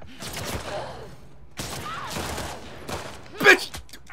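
Gunfire in a firefight in the video game The Last of Us Part II, several sharp bursts and shots in quick succession, with a player shouting briefly over the action.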